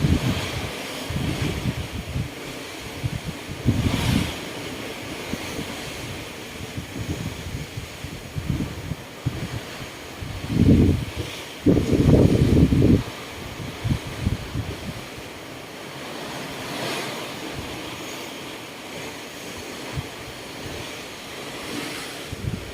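Water waves slosh against a ship at night, a low rushing wash with several louder surges, blurred by steady wind buffeting the microphone.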